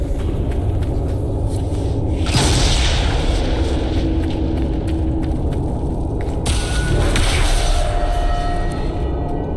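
Explosions in the Dragon Age Inquisition game, Trespasser DLC, set off by the Qunari: two loud rumbling booms, at about 2.5 and 6.5 seconds, over a continuous low roar with no voices.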